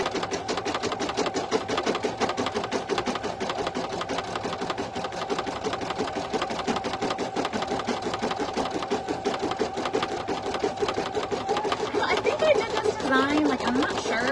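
An embroidery machine stitching an in-the-hoop sleep mask runs with a fast, steady, close mechanical chatter of needle strokes, continuous and even, with a faint voice in the background near the end.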